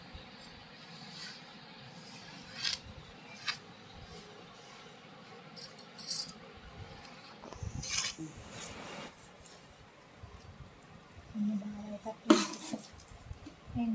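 A spoon stirs tomato chutney and chilli powder in a pot, giving faint scattered scrapes and occasional light metallic clinks against a quiet background.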